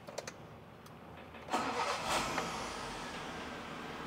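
A car starts after a starter motor repair. A few brief clicks come first, then the engine cranks once and catches, revs briefly and settles into a steady close idle, with no voices.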